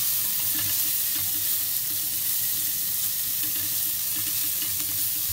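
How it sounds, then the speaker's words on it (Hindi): Half a small onion fries in a pan for white cheesy pasta, giving a steady, close sizzle with soft stirring scrapes throughout and no talk. "प्याज को हमने इसमें भुना।"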